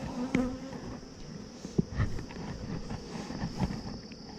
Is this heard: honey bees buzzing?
yes